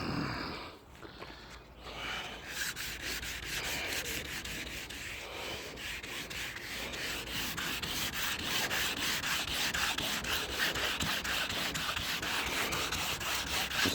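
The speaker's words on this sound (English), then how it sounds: "I'm going to try a little bit of wet sanding" Wet sanding the paint of a 1957 Bel Air by hand with 400 grit sandpaper, a close, rhythmic back-and-forth rasping that starts after a brief pause and continues steadily, growing slightly louder.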